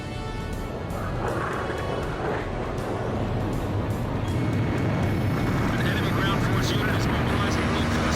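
In the video game Ace Combat 5, helicopter rotors give a steady roaring engine drone with faint rhythmic chopping, heard under voices talking over the radio.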